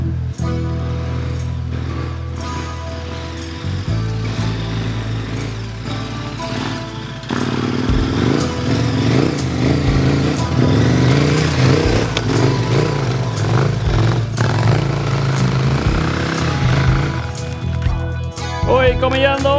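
An adventure motorcycle labors up a hill on a Swedish riding event course, its engine growing from a distant drone into a loud, rough, revving climb close by, with a voice briefly audible.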